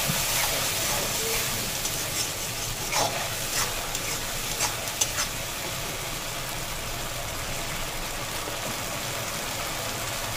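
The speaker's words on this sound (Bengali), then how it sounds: "ওই তেলে চিংড়ি মাছ আর একটা টমেটো আর পটলের যে পুরগুলো বেটে রেখেছিলাম ওটা দিয়ে দেবো।" Prawns, tomato and ground pointed gourd paste fry in oil, giving a loud, steady sizzle that fills the whole stretch, with a few brief clinks of stirring in the middle.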